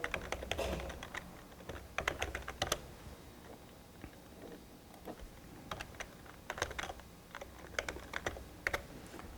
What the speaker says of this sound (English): if I start typing something like